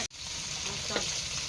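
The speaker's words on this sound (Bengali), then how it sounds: "মাছ হয়ে গেছে ভাজা, উঠিয়ে নেব।" Koi fish fry in hot oil in a pan with a constant bright sizzle close up, a brief knock near the start and a small bubbling flare partway through.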